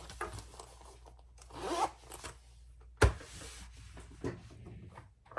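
Zipper pull sliding along a freshly sewn messenger bag pocket: a few soft scratchy zips, one quick sharp rasp near the middle, and light fabric handling around them, close and fairly quiet.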